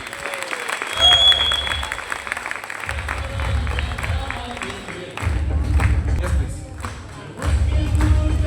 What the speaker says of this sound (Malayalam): ഇതാണോ നല്ല കയ്യടി?